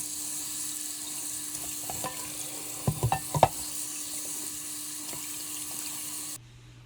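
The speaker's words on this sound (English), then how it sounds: "dump that out and rinse it out and see what it looks like" Running water rinses a rusty cast iron pan in a sink, a steady close rush of flow with a few quick metallic knocks midway, cutting off abruptly near the end.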